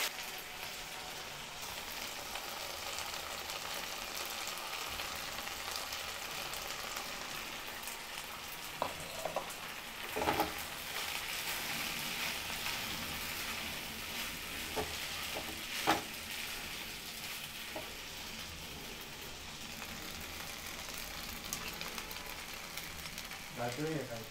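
Rice being stir-fried in a pan over a high flame for Schezwan rice, a steady close sizzle and frying hiss with occasional scraping stir clicks running throughout.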